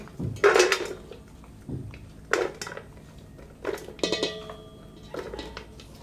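Several clinks and clatters of cut snake gourd pieces dropping into a metal bowl, scattered irregularly with brief pauses between, close and fairly loud.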